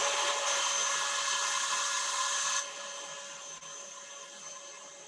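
Electric stand mixer with a whisk attachment whipping chocolate macaron meringue at medium-high speed, a steady close whirring drone that drops to a lower, softer hum partway through.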